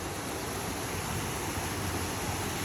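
Strong rush of mountain-fed water at a hot spring, swollen after heavy rain, a dense, steady roar filling the whole stretch without a break or voice.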